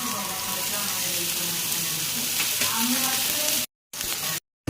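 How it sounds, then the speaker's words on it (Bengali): Tomatoes fry with lentils in a pan, a dense continuous sizzle heard up close, with faint scraping of stirring underneath before the sound cuts out briefly twice near the end. "তারপর টমেটো দিয়ে আবার একটু নাড়ব।"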